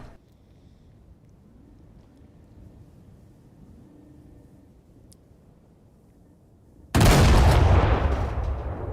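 A single heavy cannon shot from a Panther 2A5 tank built in Space Engineers, a sudden loud boom after a stretch of quiet engine hum, with a long rumbling decay.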